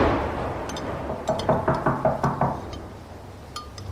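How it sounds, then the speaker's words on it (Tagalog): Loud knocking on a door as a horror sound effect: a run of about seven evenly spaced heavy knocks, close and prominent over a dark, rumbling background. "Hindi pa man kami nakakatapos maghapunan ay may narinig na kaming isang malakas na katok sa pintuan."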